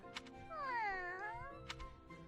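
A cat in the video game Fire Emblem: Three Houses gives one drawn-out meow that rises and falls, faint and clear, with a few soft clicks around it.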